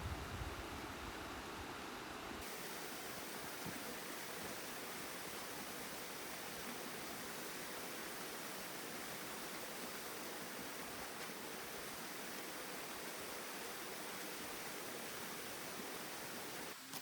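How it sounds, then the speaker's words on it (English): Mountain streams and a waterfall on the Isle of Skye, Scotland, rushing in a steady, loud, broadband roar that holds unbroken throughout, with no voices. "There were lots of streams"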